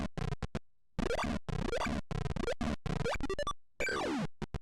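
Crispy, chirpy PC speaker-style sound effects from the video game Jill of the Jungle arrive in short bursts, with rising and falling bleeps and zaps separated by brief silences. They are fairly quiet, with no talking.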